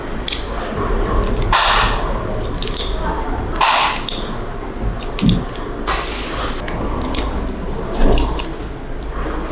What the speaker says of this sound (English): I'm gonna do a little bit of scissor over comb